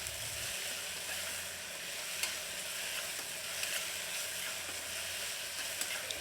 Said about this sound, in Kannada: ಇದನ್ನು ಹಾಕ್ಕೊಂಡು ಇದನ್ನು ಚೆನ್ನಾಗಿ ಫ್ರೈ ಮಾಡ್ಕೋತಾ ಇದ್ದೀನಿ.